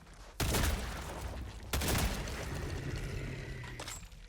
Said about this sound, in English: I'm gonna go ahead and try a crossbow. Begin firing.